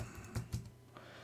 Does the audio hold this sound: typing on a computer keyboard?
yes